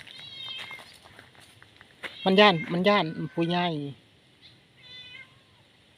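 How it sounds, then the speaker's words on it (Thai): A cat meows several times up close, loud and drawn out, during an evening stroll outdoors. People talk around and between the cries. "แมว"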